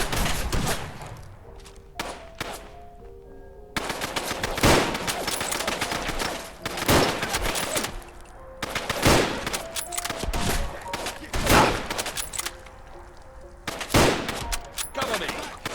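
Repeated bursts of gunfire in Fallout London, a modded shooter game: loud clustered shots and thuds every second or two, with a shouted voice and tonal game sounds between them.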